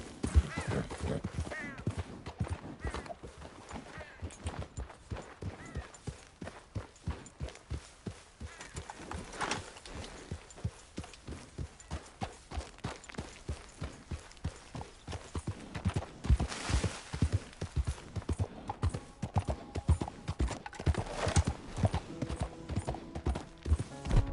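Horse hooves clip-clop in a steady trotting rhythm in Red Dead Redemption 2, continuous and fairly close, with an occasional whinny and faint voices now and then.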